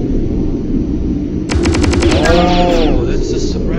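Suppressed gunfire in a video game, a rapid burst of muffled automatic shots starting midway, followed by a ringing, echoing tail and game effects, loud and close.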